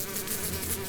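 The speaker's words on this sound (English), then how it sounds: "flies," Flies buzz as a steady, close insect drone with a continuous hum and no talking.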